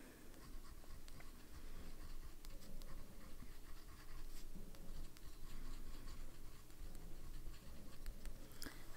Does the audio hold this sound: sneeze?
no